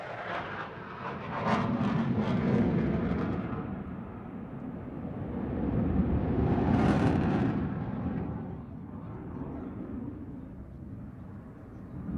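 A Su-35 fighter jet flying at the Russian Air Force 100th anniversary airshow in 2012, its loud roaring engine noise surging and fading twice as it passes, with a hiss peaking mid-pass.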